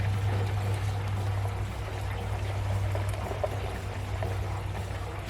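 Steady gasoline pouring into a 1972 Buick Skylark's fuel tank, a continuous gurgling stream with a low hum underneath, no talking.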